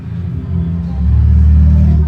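A car drives by in a played-back clip, a low engine rumble building in loudness over about two seconds.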